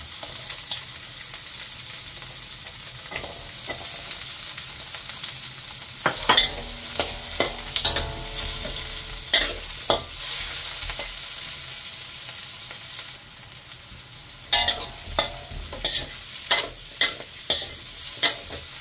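Steady oil sizzle of potatoes and carrots frying in a pan for beef caldereta, with occasional stirring scrapes and clinks over the hiss, fairly close and continuous.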